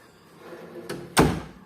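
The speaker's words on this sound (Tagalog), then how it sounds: "Di, sinara yung pinto." A household door is pushed shut: a soft first contact, then a single solid thud a moment later that rings out briefly, close and fairly loud in a quiet room.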